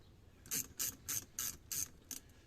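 Small hose clamps on a BMW are tightened with a ratchet, giving six quick, evenly spaced clicking bursts up close and fairly quiet with no talking.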